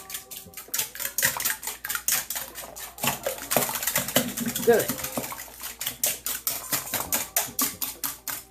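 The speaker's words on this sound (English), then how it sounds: "Now, let's whisk up these eggs." Eggs being whisked in a bowl, a rapid clattering of a whisk against the bowl in quick rhythmic bursts, close and clear, with a short spoken word partway through.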